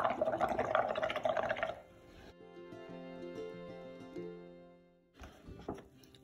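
Air blown through a straw into a food dye and bubble mixture gives a burst of soft bubbling and gurgling. It fades into quieter tonal sounds, and a short bubbly flurry returns near the end.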